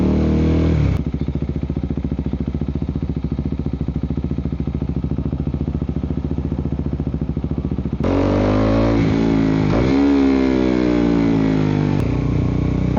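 KTM RC390 motorcycle engine while riding, a steady close droning hum that holds evenly, then rises and falls in pitch through revving and gear changes near the end, with no talk over it.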